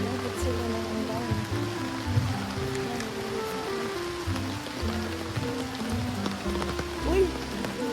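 Heavy rain pours steadily, a dense continuous patter loud and close, with a low hum under it.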